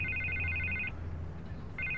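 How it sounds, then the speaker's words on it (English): A telephone rings in Batman: The Telltale Series, a bright electronic double trill repeating in bursts with a pause between, over a low hum and room tone. "I can't get the phone to stop ringing"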